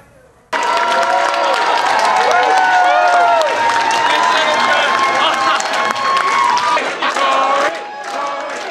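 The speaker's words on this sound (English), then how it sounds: "It was a jubilant crowd at John Tory's victory celebration last night, once his win became official" A loud, jubilant crowd at a Toronto mayoral victory celebration for John Tory on election night 2018, cheering and whooping in a sustained roar that starts abruptly and stays full, with shouts rising above it.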